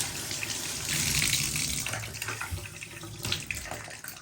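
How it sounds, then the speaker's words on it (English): Running water from a tap splashes onto a leather boot to wet it before scrubbing and waterproofing, a steady close hiss that swells in the middle and then continues with small splashy fluctuations. "we're going to go ahead and wet down the boot"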